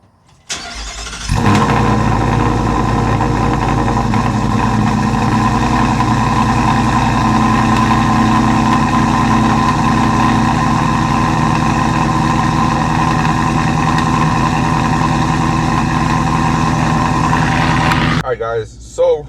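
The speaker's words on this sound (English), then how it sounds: "I'm gonna give you guys a cold start because it's in the morning right now." A Ford F-150 with a Whipple supercharger cold-starts with a sudden loud catch, then settles into a steady, deep, rumbling idle with a supercharger whine above it, close by, and cuts off near the end.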